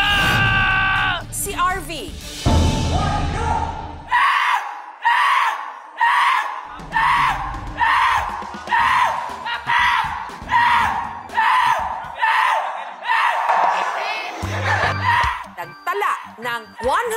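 Contestants in a Loudest Mouth Challenge let out a string of loud, strained screams, about a dozen long bursts in steady succession, with cheering and talk around them.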